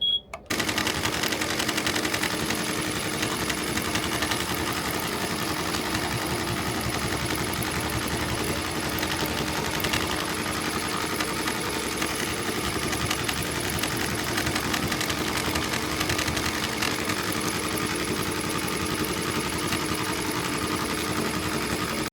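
A Tajima embroidery machine stitches text onto a customer's robe. It makes a steady, continuous mechanical clatter and whir at close range, with a rapid repetitive needle rhythm that runs unbroken throughout, with no talk over it.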